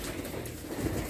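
Homing pigeons coo in a low, steady murmur, a soft continuous rumble of several birds close by with no talk over it.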